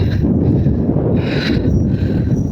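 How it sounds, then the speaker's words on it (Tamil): Steady outdoor wind rushes continuously across an open hilltop by a temple, a broad blustery roar with no voices. "நல்ல காற்று"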